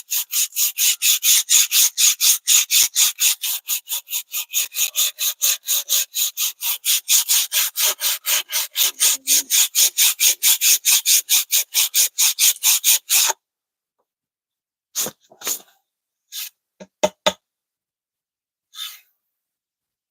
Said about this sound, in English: Sanding it now. This wooden scale.